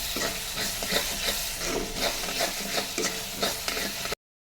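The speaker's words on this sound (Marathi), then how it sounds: "मसाला टाकून घेतलेला आहे छान अशी मिक्स करते आणि थोडासा कढीपत्ता पण टाकलेला आहे" Masala with curry leaves is stirred in a hot pan for misal, a dense, continuous sizzle with rhythmic scraping strokes throughout, no voices, ending in abrupt silence.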